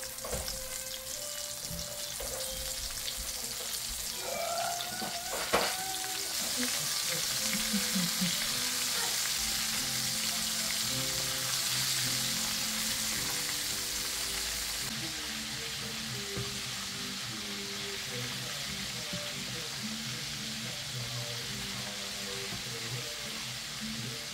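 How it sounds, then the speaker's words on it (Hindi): Spice-coated chicken drumsticks fry in hot oil with a loud, continuous close sizzle and crackle, plus a few faint clinks and stirring sounds over the long stretch. "चिकन को मैंने अच्छी तरह से इसमें फ्राई किया"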